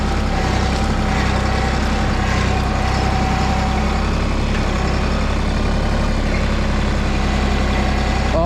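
A Mahindra tractor engine runs steadily close by, a constant low idling drone with no speech over it, while a tire spins in place.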